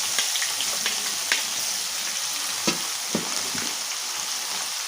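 Sliced onion sautés in oil with fenugreek seeds for fish salan, giving a steady soft sizzle with a few faint stirring clicks, close by, with no voices.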